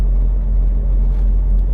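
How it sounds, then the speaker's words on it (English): Semi truck backing up slowly to slide the rear tandems of a 53-foot trailer, a steady low diesel rumble with no talk and no change in pitch. "I'm going to back my truck up,"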